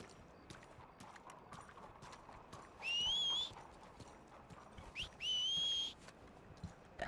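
Horse hooves clip-clop steadily in Red Dead Redemption 2, soft and close, while two rising whistle-like tones sound over the hoofbeats.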